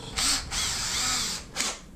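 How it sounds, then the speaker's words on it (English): A power drill whines in two bursts into a thinline Telecaster guitar body, a long steady run followed by a shorter one, close and loud with brief pauses between. "Man, I didn't think I'd be doing this much hole drilling on"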